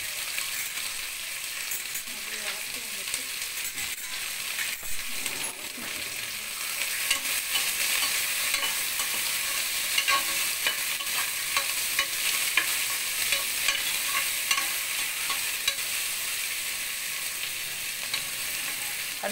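Onions sautéed in oil inside a pressure cooker for plain kuska biryani, stirred continuously with a large ladle: a steady close sizzle with repeated scraping and clinking strokes that go on without talk.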